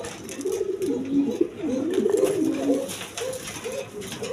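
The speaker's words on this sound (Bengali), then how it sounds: "দেখেন একবার কোয়ালিটি সম্পন্ন কবুতর" Several coloured Giribaj pigeons give a run of low, rolling coos close up, steady for a few seconds before fading, with light background noise.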